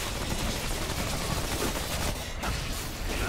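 Gunfire in the video game Remnant, a dense, continuous crackle of shots that fills the whole stretch with no pause, with no one talking.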